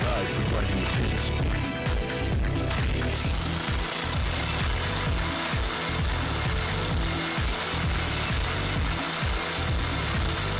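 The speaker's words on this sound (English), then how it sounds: "I'll first need to use the drill to create a guide for driving the pins." A surgical drill in the Trauma Team video game bores into bone with a steady, harsh grinding whir, joined partway through by a high sustained tone, and game speech is heard under it.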